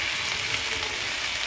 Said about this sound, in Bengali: লবণ দিয়ে আমি কিছুক্ষণ নাড়াচাড়া করে ভেজে নেব